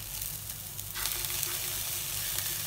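A teaspoon each of cumin, garlic and ginger sizzles as it sautés in hot oil, a steady close crackling hiss that swells slightly partway through, with no talking.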